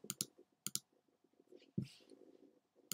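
A computer mouse clicks several times in quick pairs, close and crisp, with a soft low rumble and faint rustling between the clicks.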